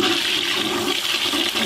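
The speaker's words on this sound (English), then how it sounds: "you flush the unit, you cannot flush immediately again" A toilet flushing close by, a steady loud rush of water that runs throughout without a break and with no voices.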